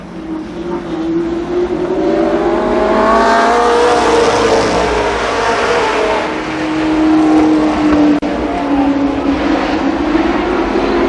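Race cars at Columbus Motor Speedway roar past at close range, with a loud, continuous engine whine that rises and falls as they sweep by, under a constant rumble.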